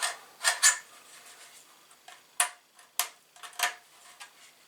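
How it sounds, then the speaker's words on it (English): Small scraping and rasping strokes come from deburring a plastic part for a Tamiya Renault 5 Turbo M05RA model car kit. They arrive in short, irregular bursts close up, with quiet gaps between them. "start it off and then tip it round if I can, if I've got access, and do the other side just to take off any burr"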